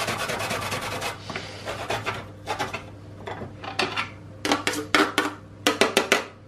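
Fresh horseradish root rubbed by hand across a fine grater, a close, steady rasping in repeated strokes with brief pauses, the strokes getting sharper and more clipped toward the end.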